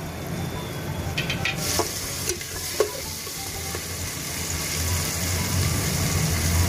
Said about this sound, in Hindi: अभी ये सब्जी अच्छे से पकी नहीं है, तो अभी थोड़ी देर हम और चलाएंगे